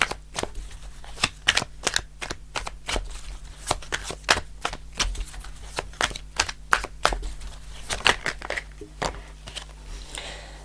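A deck of tarot cards is shuffled by hand, with a steady run of sharp riffling and slapping bursts close up at a brisk, uneven rhythm and no voices.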